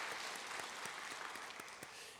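A church congregation applauds steadily in a reverberant sanctuary, dense clapping that holds throughout at moderate loudness.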